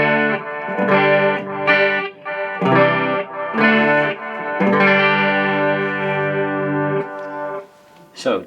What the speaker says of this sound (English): that gives us chorus and flanger and tape echo this time.